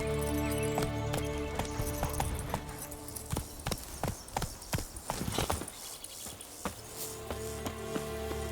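Roach the horse trots in The Witcher 3, a rhythmic run of hoof clip-clops that quickens and thins out near the end, heard over a sustained musical background.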